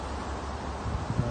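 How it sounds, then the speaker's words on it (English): Wind blows steadily outdoors on a sunny winter afternoon in Sydney, buffeting the microphone with a constant low rumble and a couple of stronger gusts toward the end. "it's a little bit windy today, so I hope it doesn't affect the microphone too much"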